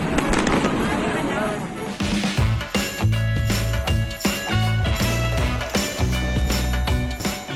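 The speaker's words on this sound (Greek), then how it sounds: "το κάστρο της Λαμίας φωτίστηκε από εκατοντάδες πυροτεχνήματα" Repeated loud New Year's midnight fireworks exploding over Lamia castle, bursts and crackles following one another in quick succession over a continuous roar, fairly close and dominating the scene.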